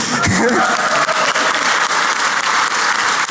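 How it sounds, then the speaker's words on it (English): A conference crowd at the Black Hat Pwnie Awards gives a dense, steady roar of applause for an award winner, loud and continuous throughout, with a voice briefly heard at the start. "I'm going to give you just a huge round of applause for that"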